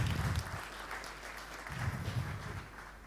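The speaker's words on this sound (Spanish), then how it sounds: "aplauso al actor acá" Audience clapping for an actor fills a church hall during a sermon, soft and somewhat distant, swelling in two waves with a low hum underneath.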